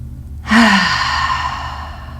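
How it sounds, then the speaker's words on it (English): A deep group inhalation and exhalation during a guided spiritual talk, heard as a sudden breathy rush that starts with a small voiced onset and fades gradually over more than a second. "So take a good deep breath."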